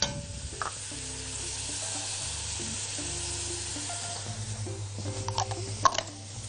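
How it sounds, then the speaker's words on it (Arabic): Kabsa spices, with cumin and turmeric, fry in a pan for chicken kabsa, giving a steady close sizzle with light stirring clicks toward the end. "وبعد كده بقوم حاطين عندنا شويه من بهارات الكبسه."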